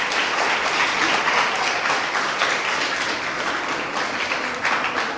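An audience applauds a CBSE school principal at a children's book-talk event, with sustained, dense clapping that holds steady and fairly loud for the whole stretch.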